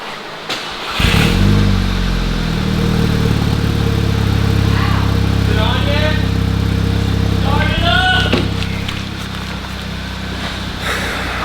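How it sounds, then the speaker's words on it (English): A Volkswagen MK6 GTI with an upgraded K04 turbo and new exhaust cold-starts, its engine catching with a loud burst and settling into a steady, close idle, while voices talk over it. "Cold start!"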